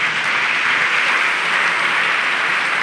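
A church congregation applauding, a steady, loud wash of clapping from many hands that holds at an even level throughout without pause.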